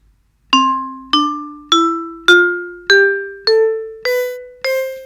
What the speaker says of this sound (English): Or if I decide to go to a vibraphone,